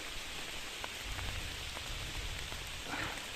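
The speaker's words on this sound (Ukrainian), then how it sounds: "дощ плеще." Rain falls steadily in a Carpathian forest, a soft, even patter of drops on leaves and ground, constant and fairly quiet with no voices.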